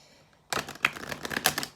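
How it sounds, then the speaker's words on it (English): Tarot cards are shuffled, a quick close burst of papery riffling clicks and flutters lasting just over a second after near silence. "Let's do one more shuffle for that one."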